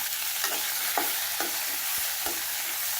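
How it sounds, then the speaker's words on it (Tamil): Brinjal, mango and drumstick being sautéed in a pan for tamarind curry, a constant bright sizzle broken by a few soft spatula scrapes, close and steady with no voices. "நல்லா 3 நிமிஷம் வதக்கணும்."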